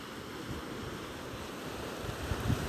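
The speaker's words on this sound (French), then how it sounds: "écouter le son des vagues" Gentle ocean waves wash in a steady, continuous surf with a soft wind-like hiss, swelling slightly louder near the end; no voices are heard.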